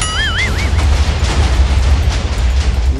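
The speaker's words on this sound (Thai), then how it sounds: "อุ้ยระเบิดตุ้มตั้มตุ้มตั้มเลยนะครับเนี่ย" Rumbling blocky explosions in Minecraft, with a continuous low boom and crackle throughout and a warbling high whistle tone near the start, loud and dense with no clear gaps.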